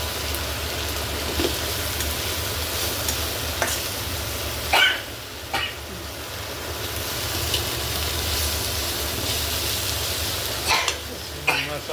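Fish fries in pure mustard oil in a pan, a steady close sizzle broken by several sharp scraping stirs and clacks of a spatula, with no voices.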